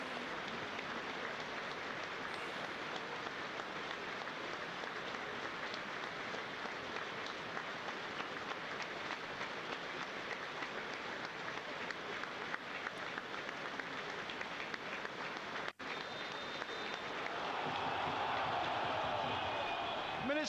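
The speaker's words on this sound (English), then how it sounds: "Applause for the former Plymouth Argyle striker Mike Bickle" A stadium crowd at a Plymouth Argyle match against Sunderland applauds former Plymouth Argyle striker Mike Bickle with a long, steady patter of distant clapping, a voice speaking over it and the sound swelling toward the end.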